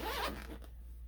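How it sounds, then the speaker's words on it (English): A zipper on a sewn fabric dopp kit bag is pulled in one quick close-up rasp that fades out, soft and alone. "Unzip that way, use our little tab to zip it back up."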